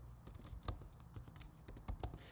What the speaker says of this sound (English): when you type the password, there's nothing show here, so just keep typing